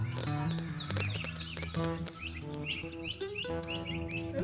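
A flock of turkeys clucks and chirps nearby in overlapping bursts, with a busy farmyard background.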